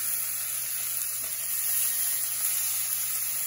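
Beef short ribs searing in a hot pan give a steady, even sizzle with faint crackles, close and moderately loud, with no talking.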